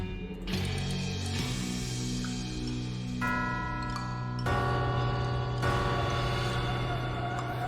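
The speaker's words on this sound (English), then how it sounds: "As the eerie sound of the bell fades away," Eerie, clear-toned bells ring in the video game West of Loathing, layered sustained chimes entering in several strikes and hanging as a steady resonant wash over a low drone.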